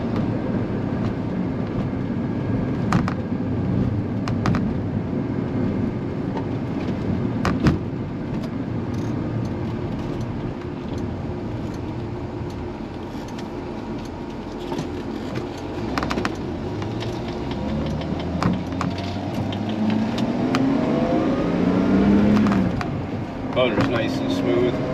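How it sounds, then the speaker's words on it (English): A car engine runs while driving, with a low steady drone and rising gear tones toward the end, heard from inside the cabin under road noise. "Motor's nice and smooth."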